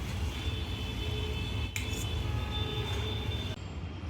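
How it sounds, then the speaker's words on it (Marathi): Cooked drumstick flower curry being served onto a plate, a few light clinks and scrapes of a spoon against the dish over a steady low background hum, close and fairly quiet. "आपण आता एका प्लेटमध्ये काढून घेऊया"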